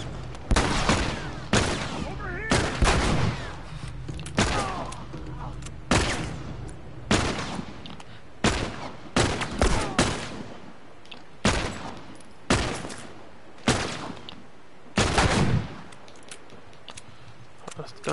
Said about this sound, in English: let's try our new gun out